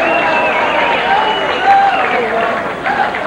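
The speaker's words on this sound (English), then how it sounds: "the fans enjoyed it because they're up and cheering for the end of this bout" Boxing fans on their feet cheering and clapping after a knockout finish, a steady roar of crowd noise with whistles and shouts rising over it, broad and continuous, with a ring announcer's voice mixed in.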